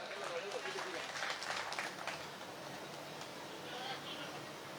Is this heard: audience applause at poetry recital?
yes